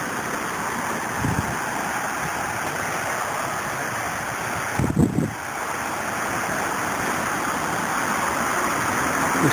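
Creek water rushing at a trail crossing along Stevens Creek, a steady close roar of flow with wind buffeting the microphone and a couple of brief thumps, no voices.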